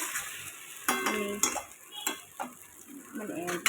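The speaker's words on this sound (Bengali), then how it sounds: "আমি একটু ম্যাগি ভাজা করছি" Maggi noodles frying in a pan, a faint steady sizzle broken by several sharp clinks and scrapes of a utensil stirring against the metal, close up with no talk.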